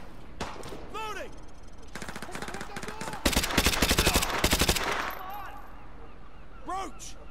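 Suppressing machine-gun fire in Modern Warfare 2 on Veteran: rapid automatic bursts, loudest near the middle, with shell-casing tinkles and game chatter around them.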